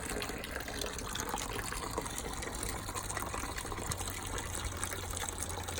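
Fluid drains from an unscrewed drain plug on a Lamborghini Countach kit car, pouring in a steady, continuous gush and trickle close by, with no talking.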